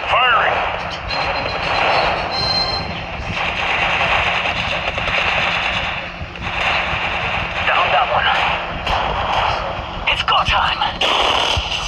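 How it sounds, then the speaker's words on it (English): Gunfire rattles in the battle royale shooter Apex Legends Mobile, dense bursts and shots layered with game effects, loud and close, while a voice talks over much of it. "Firing."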